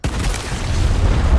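A grenade blast in the turn-based video game Gears Tactics, one loud deep boom with a rumbling tail that stays heavy and sustained for over a second.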